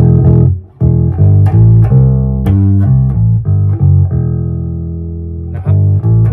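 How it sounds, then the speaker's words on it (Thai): A bass guitar is slapped with the front pickup on a bright tone, giving punchy percussive notes with sharp popped attacks and ringing low sustain, loud and close with no talking. "นี่คือเวลาสแลบไปนี่คือเสียงข้างหน้าเสียงแหลมมันจะค่อนข้างที่จะแบบเป็นก้อนทุกๆไปเลย"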